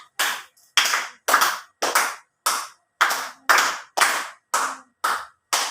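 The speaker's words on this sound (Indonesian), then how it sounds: "Tepuk semangat." Children clap out the rhythmic 'tepuk semangat' classroom chant with a teacher, about ten crisp, evenly spaced group claps in a steady beat, loud and close with no talk between them.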